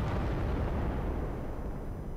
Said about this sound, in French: personne n'a remarqué l'explosion sur le toit, la moto qui vole